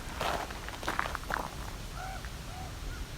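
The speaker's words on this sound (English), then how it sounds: "That sounds like a raven." A raven calling in the open air while out birding, a few hoarse croaks spaced apart at a moderate distance, following rustling footsteps nearby.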